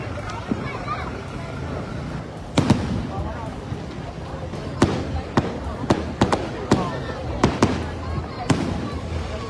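New Year fireworks bursting in Sri Lanka, a string of sharp separate bangs at irregular intervals over a steady crowd and street hum, with some talk in the background.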